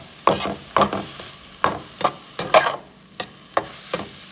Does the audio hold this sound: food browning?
yes